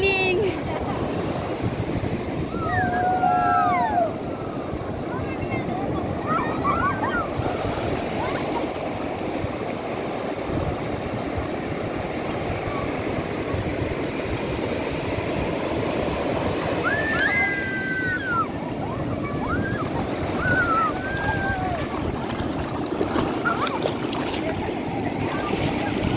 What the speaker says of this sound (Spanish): ¡Cuidado! ¡Se los va a llevar la ola!